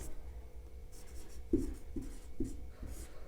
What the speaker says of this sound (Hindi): और फिर लिखते हैं उदाहरण क्या है, उदाहरण लिखते हैं